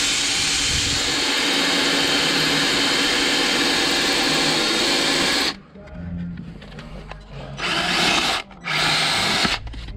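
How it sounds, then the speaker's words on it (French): A power drill bores holes during a Getrag gearbox repair on a BMW 320i convertible, a loud, continuous whine held for over five seconds, then several shorter bursts after a pause, close by, with a voice talking in between. "Alors je fais tout des trous perforants"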